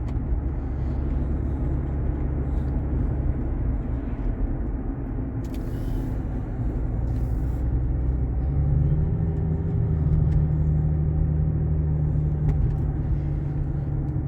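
Steady low engine and road rumble from inside a moving Range Rover Vogue 3.0 SUV, continuous and even throughout, with no talking.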